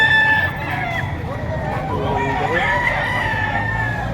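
Roosters and chickens, including bullstag gamefowl, crow and cluck at a busy fowl market, several birds overlapping close by over a background of crowd babble and talk.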